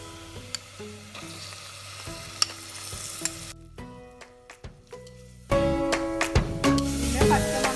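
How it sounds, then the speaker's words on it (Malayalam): Ginger garlic paste sizzles and fries with softened onions in a pan for traditional mutton puthiyapla curry, a steady crackle broken by stirring knocks that briefly drops away and then returns louder and fuller. "ഇതിലേക്ക് നമുക്ക് ജിഞ്ചർ ഗാർലിക് പേസ്റ്റ് ആഡ് ചെയ്യാം."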